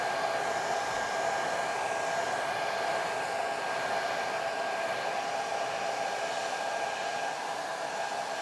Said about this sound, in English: this will take probably another minute here to get a little more power here on the dryer